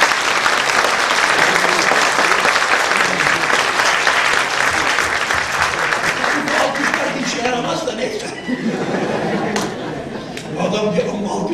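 An audience breaks into sustained applause, dense clapping that gradually thins out with murmuring voices mixed in.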